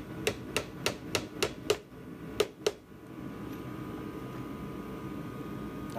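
PVC pipe tapped into a plywood hole with a hammer gives about eight sharp, close knocks in an uneven rhythm, then quiet room noise.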